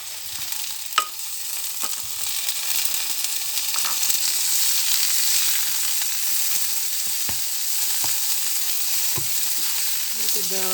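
Prawns frying with garlic in a hot pan, a steady loud sizzle with scattered sharp clicks and pops from stirring, no voices.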